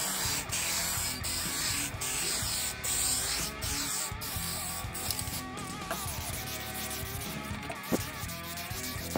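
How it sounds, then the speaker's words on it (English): A can of Duplicolor wheel gloss clear coat sprays steadily onto a vinyl figure, giving a continuous close hiss that shifts slightly in tone with short interruptions as the nozzle moves. "I'm gonna use this clear coat right here. It is a wheel gloss clear coat from Duplicolor."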